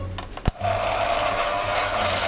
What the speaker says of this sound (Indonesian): Ya udah, jadi ujungnya pakai mixer.